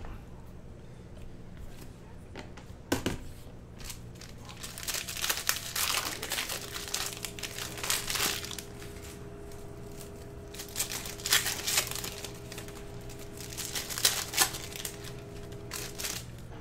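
A Panini Prizm basketball card pack, a 2019-20 cello pack, is torn open and its wrapper crinkled, producing close irregular crackling and ripping bursts with quiet gaps between them.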